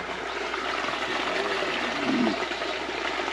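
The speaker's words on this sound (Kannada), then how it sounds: "ನೋಡಿ ಹೇಗೆ ಹರಿದು ಈ ಕಡೆ ಹೋಗ್ತದೆ ನೀರು." Stream water rushes steadily at Shri Guli Guli Shankareshwara Temple in a continuous hiss and gurgle, flowing throughout without pause.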